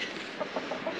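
A chicken clucking softly in a snowy Nepal village, a few short throaty clucks over a faint background hiss, fairly quiet and brief.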